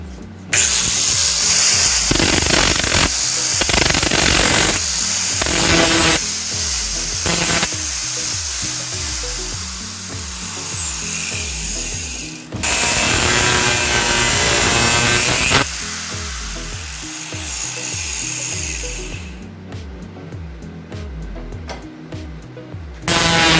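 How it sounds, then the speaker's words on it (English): An angle grinder works a steel bar for a motorcycle saddle bag stabilizer, rounding off the edges in loud, harsh bursts that rise and drop in pitch, with brief pauses between passes and no talking. "So get out the old angle grinder and go to town on it."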